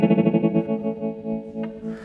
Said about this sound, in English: the strongest effect on the tremolo possible